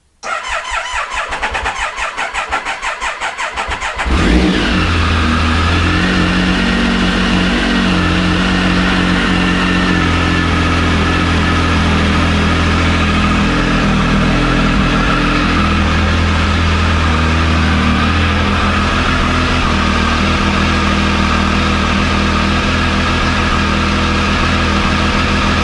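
A Triumph Tiger 955i Premier motorcycle engine, just back together after a major cylinder head gasket repair, cranks for a few seconds, catches and settles into a steady, loud, close idle with no talking.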